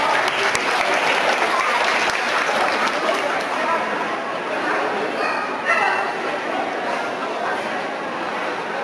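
A crowd applauds steadily after a dog demonstration with a dog named Cosmo. The loud clapping is sustained, while the dog barks and yips over it and voices talk nearby.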